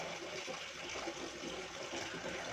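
Water poured out of a container while its water is being changed at home in the morning: a soft, continuous rushing splash, fairly faint and steady throughout, with no voices.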